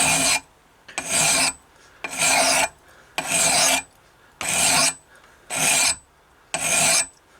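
Hand filing along the top edge of a hatchet blade during a rough refurbishment, heard as seven steady rasping strokes, each about half a second long, in an even back-and-forth rhythm with short pauses between, close and fairly loud with no voices.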